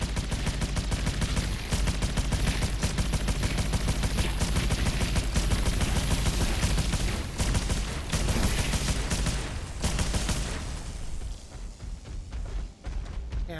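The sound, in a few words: cannon gunfire in video game PlayStation VR Worlds Scavengers Odyssey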